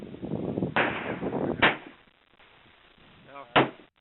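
Mosin Nagant M91/30 rifle fired outdoors at a shooting range: two sharp cracks a couple of seconds apart, each decaying quickly, with people talking before the first shot.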